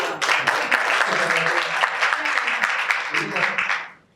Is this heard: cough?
no